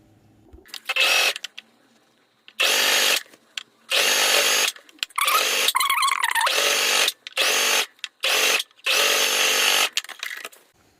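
Sewing machine stitching trouser fabric for capri ankle hems, heard as several loud mechanical bursts of rapid whirring separated by short pauses, close by and with no voices.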